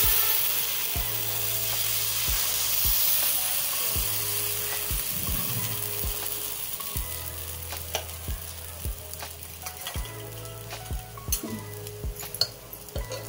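Rava uttapam batter sizzles steadily as it fries on a pan, a soft constant hiss broken by regular light clinks and scrapes of a utensil against the pan.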